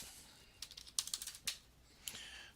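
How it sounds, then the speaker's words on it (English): Numbers being typed into an Excel 2016 spreadsheet on a computer keyboard: a short, irregular run of quick, light key clicks, fairly faint and close, with no talking. "I'll just keep on typing numbers in here."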